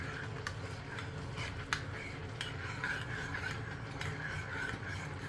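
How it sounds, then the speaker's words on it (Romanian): A spoon stirs boiled water into a seasoned mixture in a bowl to work out lumps, producing a continuous close scraping and rubbing with faint rhythmic clinks, steady throughout. "am băgat apă opărită și învârtim până nu avem cocolașe."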